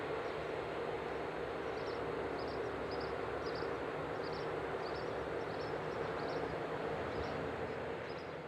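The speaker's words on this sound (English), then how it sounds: "As this Class 1116 hauled freight disappears from view" A Class 1116 electric locomotive hauls a freight train through countryside, a steady low rumble and rolling wagon noise heard from a distance with a faint regular chirping above it.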